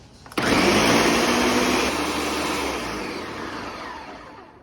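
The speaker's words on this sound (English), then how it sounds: "the ninja. Now we're just gonna blend them." Ninja blender blending tomatoes, kicking on abruptly into a loud, steady whirring roar that slowly fades as the blend continues, with no talking.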